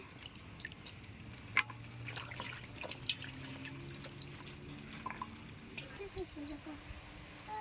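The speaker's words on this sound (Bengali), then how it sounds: "এবার বেগুনটা আমি তুলে নেব ভালো করে ধুয়ে" Freshly cut eggplant is rinsed under running water, with a faint, soft trickle and scattered light drips and clinks at a quiet, close distance.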